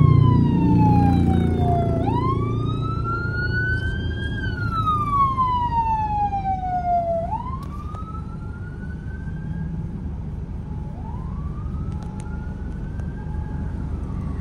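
Wailing ambulance siren in Bangkok traffic, sweeping up and down in long cycles, fairly clear at first and gradually fading as it moves away over a low hum of traffic.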